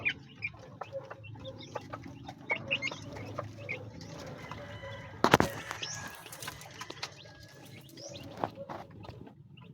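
Chickens and young chicks feeding, with frequent clucks and soft peeps close by, a burst of wing flapping midway, and scattered pecking sounds throughout.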